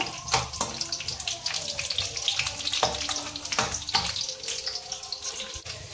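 Almonds fry in a pan for sweet rava laddu, giving a crackling sizzle broken by sharp clicks and clatters as they are stirred. The sound is near and continuous.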